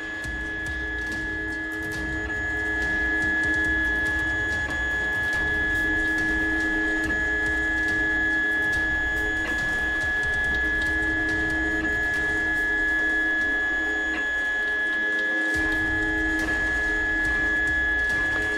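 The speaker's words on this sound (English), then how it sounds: "we're printing in PLA, which is the corn-based biodegradable plastic" A 3D printer prints a tank trap in PLA plastic, giving a continuous steady hum with a high whine and faint ticking motor movements throughout, close and alone with no voices.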